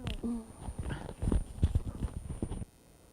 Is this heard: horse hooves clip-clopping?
yes